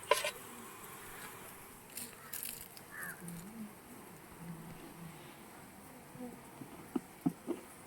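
Wild honey bees buzzing around a honeycomb of pure wild honey, a faint wavering drone with occasional louder passes close by, plus a few scattered knocks and rustles.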